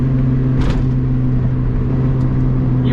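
Engine of a Toyota MR2 Spyder with a five-speed gearbox while driving: a steady, loud droning hum from inside the car with a constant low rumble and no talk.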